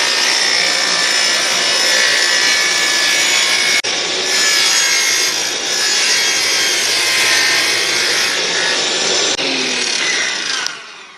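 A saw cuts a lengthwise groove into PVC pipe, a loud, steady, gritty rasp that runs almost without a break for about eleven seconds, close up with no talking.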